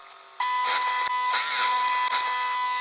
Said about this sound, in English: put them through the sewing machine and get them sewn